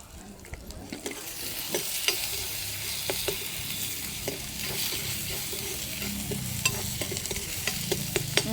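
Ginger garlic paste fries with onion and tomato in a hot pan, a steady close sizzle with frequent sharp scraping clicks of a small spoon stirring throughout, no talking.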